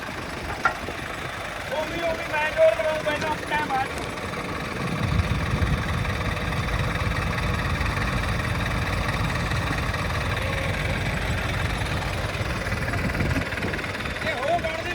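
An HMT 5911 tractor engine running on a farm, a steady low diesel rumble and vibration that grows heavier partway through and keeps up under the surrounding sounds.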